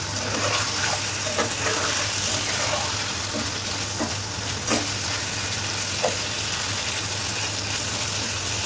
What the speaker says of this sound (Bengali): এই তো এখন আমি খুবই লো আঁচে কষিয়ে নিচ্ছি আর নিচ থেকে নেড়ে দিচ্ছি যাতে করে লেগে না যায়